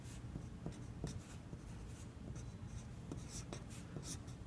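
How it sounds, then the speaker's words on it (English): A matrix equation being written out by hand for Cramer's rule: a soft, steady scratch of pen or marker on a surface, with light taps and strokes at an irregular rhythm, close and quiet. "So I'm going to write the matrix equation first."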